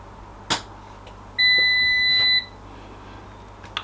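A Cosori twin-basket air fryer gives a single clear electronic beep about a second long as the power comes on, close and alone over faint background clicks.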